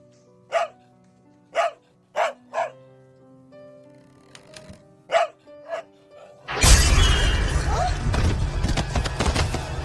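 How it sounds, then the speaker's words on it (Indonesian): A pet dog barks wildly in sharp, separate bursts, several in a row, then a few more. A sudden loud crash like shattering breaks in and noisy clatter follows. "melihat tingkah aneh anjing peliharaan yang terus menggonggong tak karuan"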